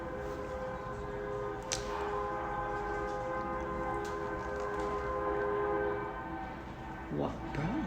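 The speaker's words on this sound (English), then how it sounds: "A train? I'm assuming that's a train." A train passes in the distance, a long steady rumble with sustained horn-like tones running throughout, and a brief voice or noise near the end.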